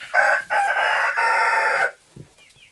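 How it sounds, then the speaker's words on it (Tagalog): A rooster crows loudly nearby in one long call broken into segments, then stops, leaving quiet with a faint thump. "tilaok ng manok"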